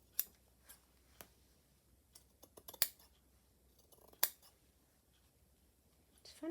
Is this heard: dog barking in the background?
no